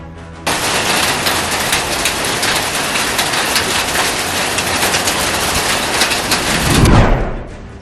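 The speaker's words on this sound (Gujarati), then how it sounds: "વારાણસીમાં તેજ આંધી સાથે વરસાદ વરસ્યો" Steady, heavy rain pours down in a continuous loud rush during a strong windstorm in Varanasi, with a gusty swell near the end before it cuts off.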